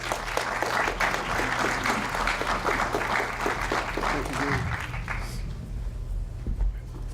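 An audience at an education equity summit applauds, a broad sustained wash of clapping that fades after about five seconds.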